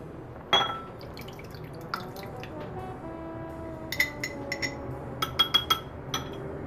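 Wet salsa is poured into a container: a soft thud, then scattered wet plops, drips and light clinks against the container, growing busier toward the end over a low background hum.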